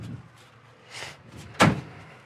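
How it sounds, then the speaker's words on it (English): A 1957 Chevy door shutting, heard as one solid, close thump with a brief metallic ring after a softer preceding movement sound, in an otherwise quiet setting. "Those doors shut nice,"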